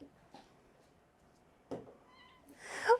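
Orphaned kitten giving a couple of faint, thin meows, the last one louder and rising, with a soft thump and quiet room noise between calls.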